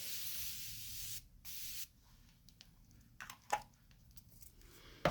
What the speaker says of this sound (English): just spray a little bit of face mist